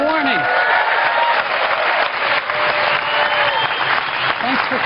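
Audience applause for Intel's CEO as he starts at the podium, steady crowd clapping filling the clip with a voice speaking over it.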